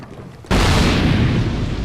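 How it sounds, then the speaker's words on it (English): A sudden, loud explosion in Dark Souls 2 bursts in after a short quiet moment and holds as a dense, roaring rumble with no talking. "I think I heard an explosion"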